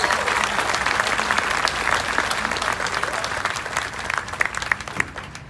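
An audience at a talk in Miami breaks into sustained, dense applause, steady and loud throughout with scattered sharper claps toward the end.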